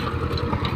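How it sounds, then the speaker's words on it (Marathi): Swaraj 724 tractor engine runs on a farm with a pomegranate plot, a close, steady low chugging throb with a regular pulsing beat throughout. "आपला ट्रॅक्टर 724 स्वराज या कंपनीचा आहे आणि मस्तपैकी असा पोरगा ट्रॅक्टर चालवतोय"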